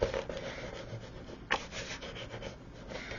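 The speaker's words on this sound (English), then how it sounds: "just push them down so that you get a nice burnish" Paper pieces of a decorated exploding box pressed and rubbed down firmly to burnish them in place, a soft continuous scraping rub with one sharper swipe midway, close and fairly quiet.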